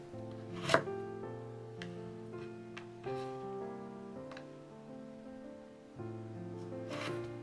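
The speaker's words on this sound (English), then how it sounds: "I cut it into 3mm intervals. It's important to move my knife down straightly." A knife chops daikon into thin 3 mm strips on a cutting board, producing quiet, close, evenly spaced taps in a steady rhythm, with no one talking.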